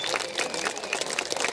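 Outdoor air show crowd applauding a Su-27 pilot, a dense steady patter of many hands clapping at a distance with faint voices mixed in.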